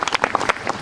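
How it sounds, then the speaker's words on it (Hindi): An audience clapping in a church gathering, a short burst of scattered hand claps, loud and close, lasting under a second. "ताली बजाएंगे सब यीशु मसीह के लिए"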